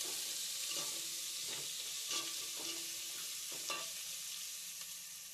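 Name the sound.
onions sautéing in a pan for sambar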